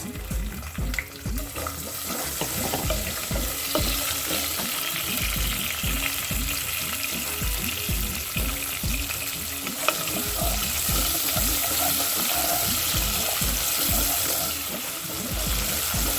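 A tablespoon of chopped onions fries in oil for geera rice, giving a loud continuous sizzle with busy stirring and scraping close up.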